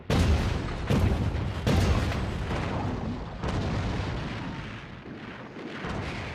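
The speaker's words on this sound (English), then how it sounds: "Bombardment and shelling from the battleships pound the coast, but completely miss their targets on the beach codenamed Omaha." Naval guns on battleships shell the coast at Omaha Beach in a sustained, dense rumble of heavy booms and blasts, several sharper detonations standing out near the start and continuing throughout with no speech.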